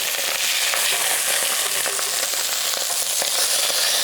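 Lamb shanks searing in a hot, smoking pan, a loud dense continuous sizzle with crackling pops throughout.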